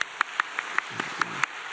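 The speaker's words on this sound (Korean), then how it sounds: "우리 찬양대를 위해서 박수 한번 쳐드리겠습니다." A church congregation applauding its choir after a hymn, heard as evenly spaced, crisp claps in a steady rhythm, moderately loud in a reverberant sanctuary.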